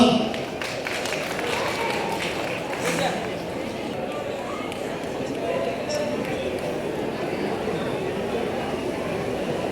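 Schoolchildren at a prize-giving for local schools applaud, producing a sustained, dense crowd clapping that starts loud and continues evenly for nearly ten seconds.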